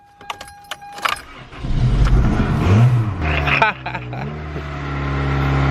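A car that has sat unused for over a month cranks with a few rattling turns, catches and settles into a steady, close idle that slowly gains volume after some keys jangle.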